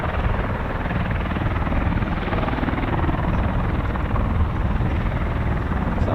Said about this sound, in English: CV-22 Osprey to add to the list